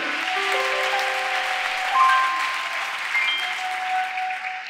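Church congregation applauding and cheering to acclaim the Lord, a steady wash of clapping that holds for the whole stretch, with scattered voices and shouts rising through it.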